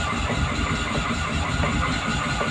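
A Fiat 126p's small engine turns over and sputters steadily without fully catching, a continuous rough mechanical rumble up close.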